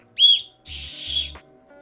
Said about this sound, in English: Comes with a spoon and fork combo that also comes with the whistle at the end.